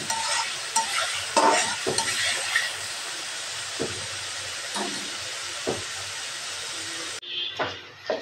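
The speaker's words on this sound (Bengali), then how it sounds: "এই তো তেলে দেওয়ার জন্য আমি এখানে দিয়ে দিচ্ছি পেঁয়াজ, রসুন আর একটু কাঁচা জিরা। এগুলো আমি লাল করে ভেজে নেব।" Onion, garlic and cumin seeds sizzle in hot oil, a bright steady frying hiss broken by repeated stirring scrapes and clinks, close and moderately loud before cutting off near the end.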